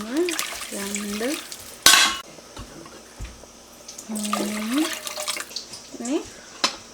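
Water is poured into a pot of fried basmati rice for Kerala-style ghee rice, with a brief splashing pour, clinks of metal utensils against the pot, and someone talking throughout.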